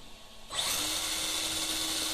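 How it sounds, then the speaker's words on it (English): The electric motor of an MST RMX 2.0 RC drift car abruptly kicks in with a steady, high, whirring buzz that holds at a constant pitch, close and fairly loud, with no talk over it. "you'll hear the motor slow down"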